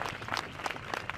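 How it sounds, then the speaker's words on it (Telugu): A church congregation claps together in a hall, a fairly faint, uneven patter of many hands with scattered sharper claps standing out over a short stretch. "మీరు చప్పట్లు బాగా కొట్టారు"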